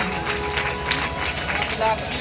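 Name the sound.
audience clapping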